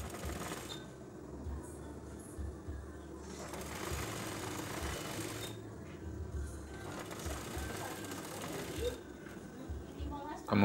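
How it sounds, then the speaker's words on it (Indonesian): A sewing machine stitches the collar of a scout uniform, running in steady bursts of rapid mechanical whirring with brief pauses between runs, fairly close and loud, while someone talks over it at times. "Kemudian yang satunya lagi kita jahit."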